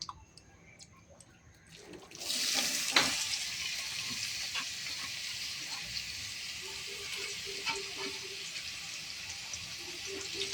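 Sliced onions going into hot oil in a pan set off a loud, close sizzle after a quieter opening, then a steady hiss of frying with a few faint clinks.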